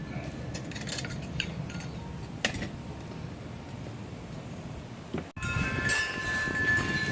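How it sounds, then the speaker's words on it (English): Metal pot supports on an iRegro wood gasifier stove swing out with light clinks and a metallic click, a sharp knock near the middle, amid a steady low background rumble. "Pot supports swing out, and it goes on thusly."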